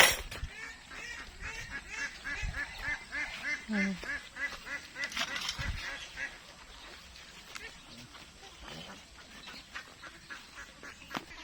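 A flock of domestic ducks about two and a half months old quacks continuously at a farm, with many overlapping calls at moderate distance and a person talking now and then over the noise.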